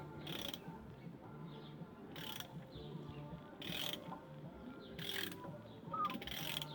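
A ratchet turns a Honda VFR750 engine over by hand with the spark plugs removed, giving about five spaced bursts of clicking against a faint, quiet background.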